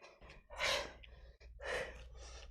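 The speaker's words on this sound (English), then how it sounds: "Sorry for my heavy breathing." Heavy, labored breathing from someone mid-workout, with two big loud exhalations and quieter breaths between, close to the microphone and alone without speech.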